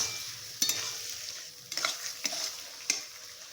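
Food fries in fish oil in a pan with a faint sizzle, broken by a few distinct stirring scrapes and clacks of a utensil, close and without speech.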